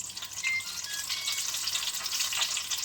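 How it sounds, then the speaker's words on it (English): Chicken chimichangas deep frying in hot oil, giving a steady, close hiss and bubbling crackle that runs unbroken from start to end. "So I'm going to let this deep fry till the bottom side is good and crispy."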